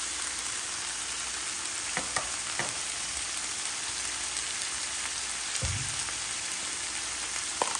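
Spicy pork belly sizzles and fries in a pan with sesame oil, a dense continuous crackle close by with occasional scraping stirs and small spits, no voices.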